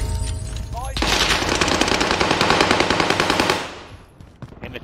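Rapid automatic weapon fire rattles in a video game, one sustained burst of about three seconds, loud and close, with player voices faintly around it.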